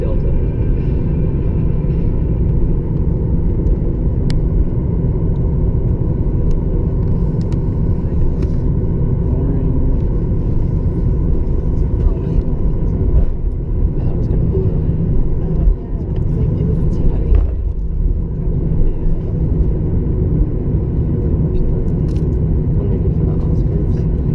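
A Delta Boeing 737-900ER takes off from Salt Lake City. Its jet engines give a loud, steady, deep roar that lasts throughout, with a rumbling cabin drone.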